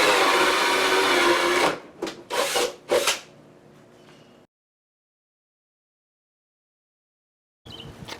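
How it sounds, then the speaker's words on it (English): A drill bores through a wooden pow-wow drum frame in a few short whirring bursts, then stops, leaving near silence. "I can drill from the outside and the inside with this bit."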